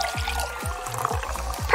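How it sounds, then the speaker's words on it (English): Soda poured into a glass, a close gurgling pour in several short glugs, ending with a faint fizz. "I'll just pour another drink."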